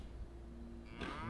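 A cow in the video game Fallout 76 gives a single short low moo, faint and fairly distant within quiet game ambience, with a brief louder rise at the end.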